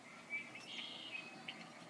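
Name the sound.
birds chirping in a video played on a tablet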